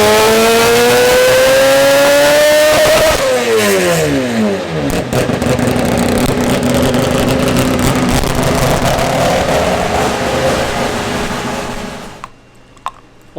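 A Toyota Supra on a dyno with its timing advanced a degree screams loudly through a high rev sweep, pitch climbing steadily before dropping sharply, then carrying on at a rough, lower drone and cutting off near the end.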